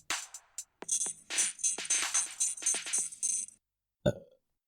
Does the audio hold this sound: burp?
yes